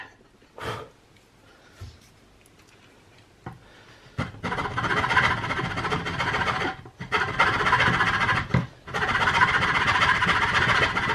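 A coarse file rasps against wood during a DIY assembly, starting with a few isolated scrapes, then settling into long, loud, continuous back-and-forth filing strokes broken by brief pauses.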